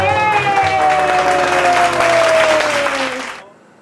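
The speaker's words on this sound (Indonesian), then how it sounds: "Tepuk tangan untuk Tuhan Yesus." A children's Sunday school congregation claps loudly for Jesus, thick applause with a sustained tone over it, fading out at the end.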